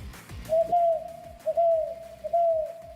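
A man imitates an owl with his voice at a hockey game broadcast. He gives three steady, hooting coos in a row, each about half a second long, clear and close over faint arena background noise.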